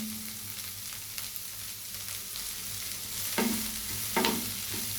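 Chopped onion and salt frying in a pan for chicken fried rice, a steady close sizzle with occasional sharper stirring scrapes and clatters, no voices.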